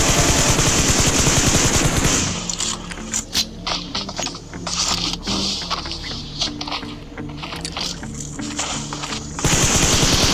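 Rapid bursts of automatic gunfire from a shooter video game, loud and close, with clattering mechanical shots in quick uneven volleys over a steady game background.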